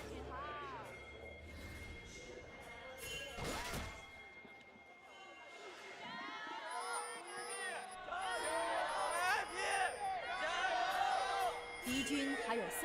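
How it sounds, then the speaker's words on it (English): A crowd in an esports arena at a League of Legends playoff match yells, whoops and cheers, swelling louder toward the end, with a commentator talking over the noise. "now that the crowds are done yelling at each other and their players"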